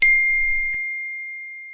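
A single bright phone text message chime rings out clearly and decays slowly in a quiet room, with a faint soft tap partway through and no talk.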